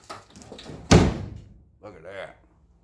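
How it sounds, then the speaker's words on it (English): A car door, freshly adjusted on an older vehicle, shuts with a single solid thunk, clear and close, after some preceding handling noise; a brief voice comes in shortly afterward. "this door shuts a lot better. It shuts like it's brand new."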